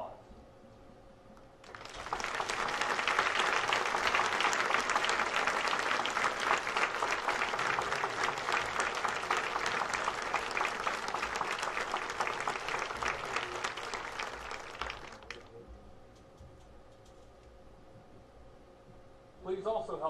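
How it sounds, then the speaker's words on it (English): A graduation ceremony audience gives a long round of applause for students rising, starting about two seconds in, holding loud and steady, then fading out near fifteen seconds before a brief burst at the very end. "Could those students please rise for a very well-deserved round of applause?"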